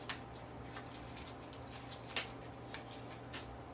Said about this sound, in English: I've reached the end of my deck, so I need to shuffle